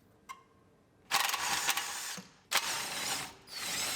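Ratchet wrench clicking as a brake hose is unbolted from the steering knuckle of a 2012 Acura TL AWD, with two sustained bursts of rapid close-up ratcheting separated by short pauses.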